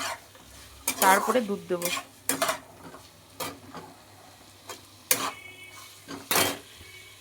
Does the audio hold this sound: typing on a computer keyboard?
no